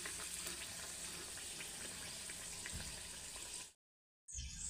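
Sanjori, a jaggery-filled pastry, frying in hot oil, a dense steady sizzle heard close, cutting out briefly near the end before resuming.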